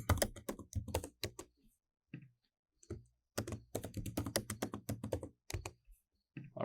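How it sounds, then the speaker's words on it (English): Quick clusters of clicking keystrokes as a password is typed on a computer keyboard, close and fairly quiet, in short bursts with brief pauses between them. "Let me quickly type my password."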